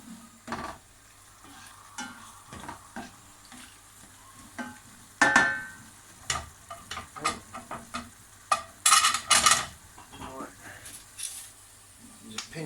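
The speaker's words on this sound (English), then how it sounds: "And he's stirring." Food being stirred in a pan while making cannelloni from fresh, with soft intermittent scrapes and clatters over a faint sizzle, and a couple of louder bursts midway; voices talk in the background.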